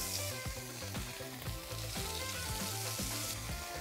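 Two bacon slices fry in a pan for a homemade American burger, a steady broadband sizzle running throughout with soft repeated clicks and scrapes over a low background hum.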